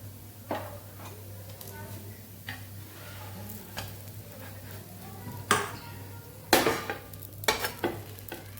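Bottle gourd pudla (chilla) frying on a pan, a low steady sizzle under a constant kitchen hum, broken by several sharp clinks and scrapes of a utensil turning it.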